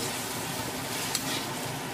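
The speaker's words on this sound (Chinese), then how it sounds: "调入盐、糖、胡椒粉、鸡精、生抽、料酒后搅拌均匀" Seasonings such as salt, sugar, pepper, soy sauce and cooking wine being stirred into a Sichuan dish in a wok, a short burst of dense sizzling with brief scraping clicks of the utensil, close and steady.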